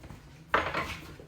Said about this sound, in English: I'm gonna put it in the bowl